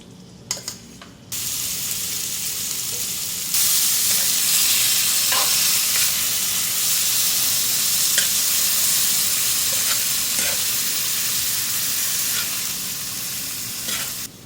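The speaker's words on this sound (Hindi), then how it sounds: "5 टेबलस्पून ऑयल डालूंगी इसमें। बीफ मैंने मैरिनेट करके रखा था, ये डालूंगी।" Marinated beef frying in oil in a tawa karahi, a steady loud sizzle that starts after a brief clatter and swells as the meat hits the hot oil, with occasional stirring scrapes and pops.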